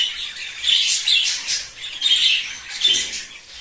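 Cockatiels kept as breeding pairs at an aviary breeder: repeated harsh, close squawks and chirps come in several bursts, with no one talking.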